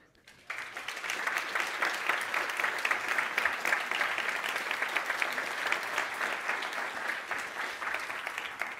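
A conference audience at a games research and user experience session breaks into applause for summit committee members, a dense, even clapping that starts abruptly and continues steadily.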